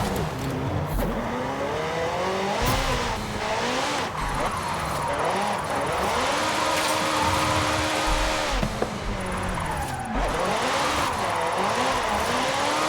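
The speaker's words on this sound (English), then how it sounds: "I can't believe I'm drifting a McLaren." A tuned 900 HP McLaren 650S Coupe drifts in Forza Horizon 5, its engine revving and bouncing off the limiter through repeated throttle bursts, with tire skids and brief gear shifts, loud and continuous.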